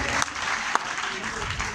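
Audience at a school competition clapping for a public school team, dense, steady applause filling the short moment, with a voice faintly over it.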